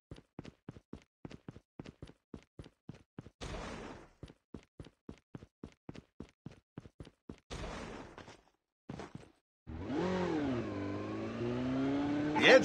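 An enemy vehicle engine revs in the game PUBG, rising and falling after a run of quick clicking steps and brief bursts, the motor droning loud near the end.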